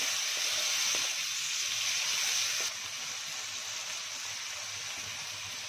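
Onions with prawns and banana flower sauté in a pan for banana flower and lentil prawn ghonto, giving a steady broadband sizzling hiss that drops slightly in level midway and continues evenly to the end.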